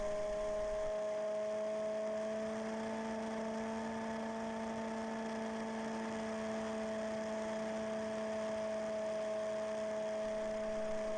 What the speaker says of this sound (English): This is Colin Kobasinski in his Piper PA-18 with a 150 horsepower O320 engine.